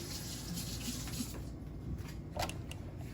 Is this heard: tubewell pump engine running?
no